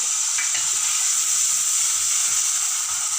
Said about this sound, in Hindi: अदरक लहसुन का पेस्ट डालूंगी और इसको मैं अच्छा सा फ्राई करूंगी